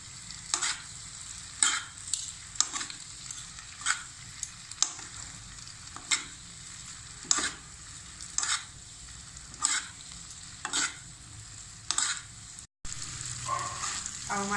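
Vegetable noodles seasoned with vinegar and soy sauce are stirred and fried in a pan, with a steady sizzle broken by repeated scraping strokes at a roughly even rhythm. The sound is close and there is no talking.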